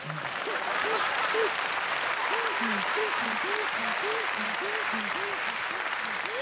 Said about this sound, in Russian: Хлопаем, хлопаем.